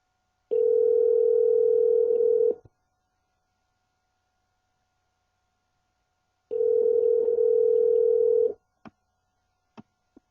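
An outgoing phone call rings on the line: two long steady ringback tones separated by a silent pause, followed by a few faint clicks, with no one talking.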